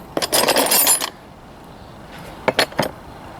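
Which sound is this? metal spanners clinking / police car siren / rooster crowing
metal spanners clinking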